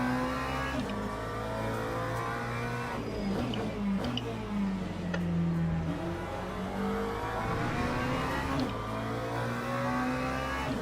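Ferrari race car engine in the Le Mans Ultimate racing game at the 24 Hours of Le Mans, revving steadily up and down through gear changes, loud and close throughout with no talking.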